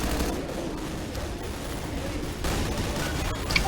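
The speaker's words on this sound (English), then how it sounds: "I'm gonna start shooting" Half-Life 2 roleplay firefight: a continuous crackle of distant rapid gunfire under a rumbling battle ambience, with a sharper pop near the end.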